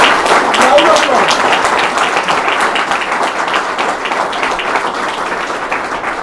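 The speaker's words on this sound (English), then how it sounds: "Let's congratulate the winner. Round of applause." Audience applause at an ophthalmologists' awareness event in India, a steady wash of many hands clapping at moderate loudness that fades slightly over several seconds.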